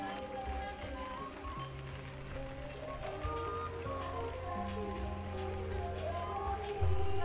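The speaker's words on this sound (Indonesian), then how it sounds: "Suasana di cafe sawah ini saat ini masih diguyur hujan alias gerimis" Light drizzle at a cafe in a rice field: a soft, steady patter of raindrops with sustained tonal sounds, likely music, and faint background voices mixed in.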